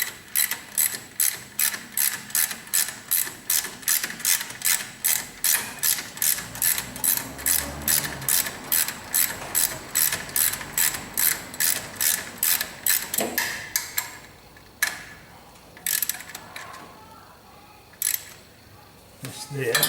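A ratchet winds in a bolt while a car alternator is fitted, with a long run of rapid, regular clicks up close, then a few scattered clicks and knocks.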